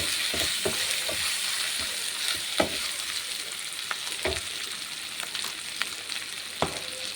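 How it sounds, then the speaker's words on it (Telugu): Food sizzles steadily in hot oil for egg biryani, with a constant crackling hiss and several sharper stirring clinks and scrapes at irregular intervals, no voices. "చూసినారా ఇది అలా ఆయిల్లో ఫ్రై అవుతుంటే"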